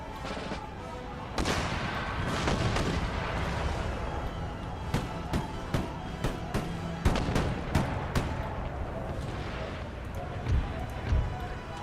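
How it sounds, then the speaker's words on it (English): Artillery fire in Empire: Total War, a series of sharp cannon booms and cracks scattered irregularly over a battlefield din, some near and loud, others fainter, with talking underneath. "Their artillery is going to be devastating."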